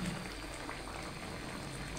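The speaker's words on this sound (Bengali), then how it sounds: "আর সেই রকম বলকাচ্ছে" A pot of potatoes and cauliflower boils under the lifted lid, a dense steady bubbling and churning of water, close and even throughout.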